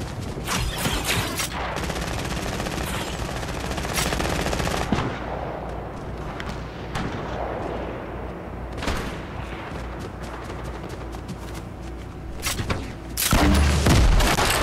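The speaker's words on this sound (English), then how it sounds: "Okay, it's a grenade launcher." Grenade launcher fire in the Fortnite video game: a dense, loud, sustained barrage of rapid shots and blasts that runs almost without a break and swells again near the end.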